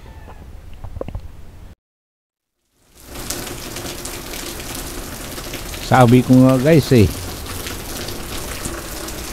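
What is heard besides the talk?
heavy rain pouring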